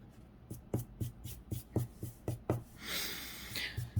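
Pencil marking a drawing, a series of about ten short evenly spaced strokes against paper, close and fairly quiet, followed by a longer scratchy scribbling passage at the end.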